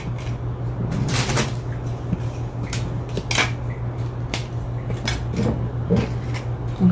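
Graham crackers being laid into the bottom of a baking pan, heard as scattered light clacks, taps and snaps against the pan over a steady low hum, with no talking.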